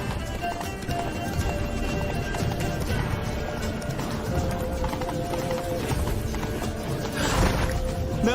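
Horse hooves clip-clop at a gallop in The Witcher 3: Wild Hunt, a steady rapid rhythm close by, mixed with game music, ambient clatter and a brief swell near the end.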